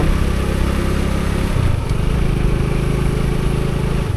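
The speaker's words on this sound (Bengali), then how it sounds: "আজকে বৃষ্টির দিনে মোটরসাইকেল রাইডিং করছি মোটরসাইকেল ড্রাইভিং করছি" Motorcycle riding on a village road in Sylhet on a rainy day, a steady loud engine drone with a brief shift in pitch midway, heard up close from the rider's position with wind and rain noise.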